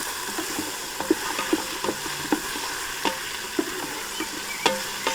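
Spices stirred around in a Ninja Foodi pot while making pilau rice, a steady frying sizzle with a series of soft, spaced scrapes and taps from the stirring utensil, close and moderately loud.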